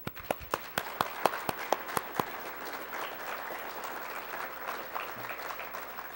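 An audience applauds graduates' families and friends at a community college nurse pinning ceremony. A few sharp, distinct claps come first, then they merge into a dense, sustained round of applause from the crowd.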